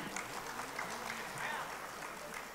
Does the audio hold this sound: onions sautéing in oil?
no